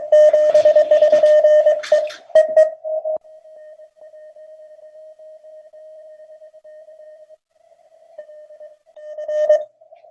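Amateur radio band while calling CQ: a dense burst of overlapping signals and a steady carrier tone, then mostly a lone sustained tone with brief chatter returning near the end.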